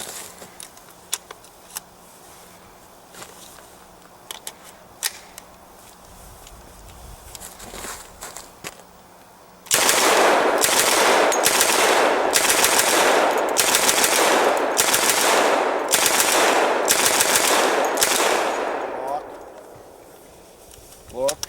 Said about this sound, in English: Then he's going to run 25 rounds through the M3.